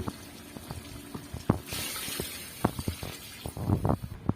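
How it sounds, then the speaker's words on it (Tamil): Water pours and splashes into a cooking pot while making chicken dum biryani, with several sharp knocks and clinks of utensils scattered throughout. "ஃபர்ஸ்ட் வந்து ஒரு பவுல் அளவுக்கு நம்ம தண்ணி ஊற்றுக்கலாம்"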